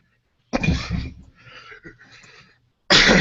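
Two loud, harsh coughing fits burst out close to the listener, the first followed by rasping, wheezy breaths before another sharp cough cuts in at the end.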